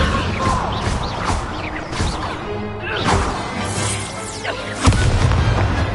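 A Hogwarts Legacy spell duel fills the scene with magical whooshes, booms and crashing impacts in quick succession, loud and close, with swelling bursts and a heavy hit near the end.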